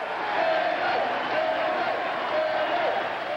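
A large crowd cheering at a benefit concert in New York, a sustained roar of many voices with rising whoops and calls, loud and continuous throughout.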